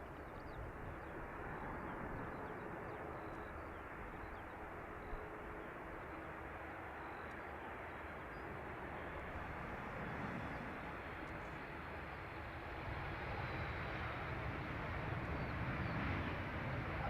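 A Ryanair airliner on approach to Dublin Airport gives a steady, broad jet roar that holds at an even level throughout, with no voices over it.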